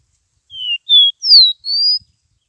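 A caged caboclinho seedeater sings four short, clear whistled notes in quick succession, each a pure high tone, loud and close in a quiet setting.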